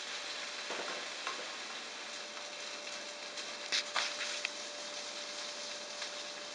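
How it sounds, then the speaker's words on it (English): Steady soft sizzling of Spam frying in a pan, a continuous crackly hiss with a few sharper pops, heard alone without talk. "Spam tastes or smells really good when it's frying in the pan. And it sounds good too."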